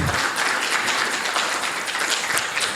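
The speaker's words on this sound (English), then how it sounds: "Give everyone a round of applause" Audience at an artificial intelligence forum debate applauds loudly and continuously, a dense wash of clapping from a large crowd close by with no pause.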